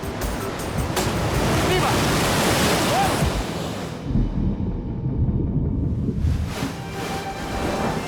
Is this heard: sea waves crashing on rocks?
yes